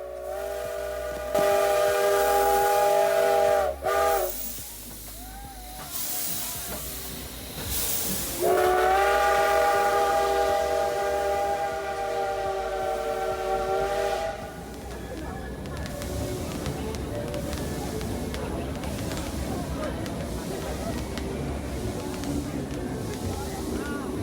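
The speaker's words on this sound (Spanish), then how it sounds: "La histórica locomotora a vapor volvía a cruzar el puente sobre el río Kwai." Historic steam locomotive crossing the bridge over the River Kwai at Kanchanaburi, Thailand: two loud, sustained whistle blasts, then rumbling wheels and hissing steam as the train rolls past nearby.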